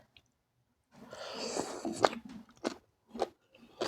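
Crunchy bites and wet chewing of spicy green papaya salad eaten with apple snails, several close, distinct crunches spaced apart after a quiet start, with no talking.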